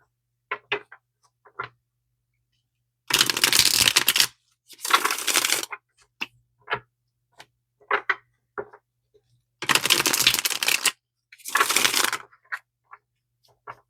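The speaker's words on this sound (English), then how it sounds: "I am just going to give the deck a few shuffles" Cards riffle in several quick bursts, separated by soft taps and shuffling handling noises, close and fairly loud, with no talking.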